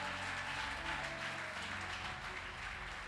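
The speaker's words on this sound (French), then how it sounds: "Acclame Dieu pour la vie de notre Père." A church congregation applauding during a French-language service, a dense continuous patter of many hands clapping at moderate volume throughout.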